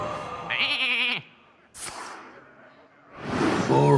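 Sheep bleating from a polymorph spell in the card game Hearthstone: a loud wavering bleat, then a whoosh, then a second bleat, with a voice briefly calling out between them.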